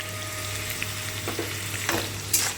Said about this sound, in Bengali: সাদা বাটাটা দিয়ে দু চার মিনিট ভেজে নিলাম ভালো করে